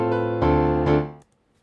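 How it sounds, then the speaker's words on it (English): Recorded piano notes with harmonic tones, three sustained strikes over about a second, close and fairly loud, then cut off abruptly into near silence. "first I recorded a piano that sounds something like this."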